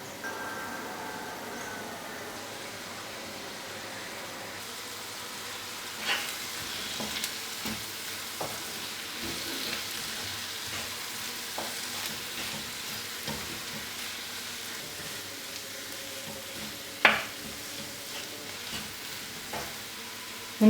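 Tomato and coconut fry in a pan with spices for a Malabar fish ada, a steady close sizzle broken by scattered scrapes and taps of the spoon as it is stirred.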